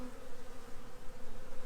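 Honey bees drone steadily from an open hive during a mite-wash inspection, a close, continuous buzzing swarm with slight pulsing swells in loudness and no speech.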